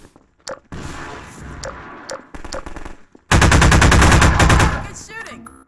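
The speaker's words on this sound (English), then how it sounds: "This is essentially the Combine's standard rifle." Bursts of automatic fire from the Combine standard pulse rifle in Half-Life 2: Episode One, with scattered shots early on and then one long, loud, rapid burst close up before it trails off.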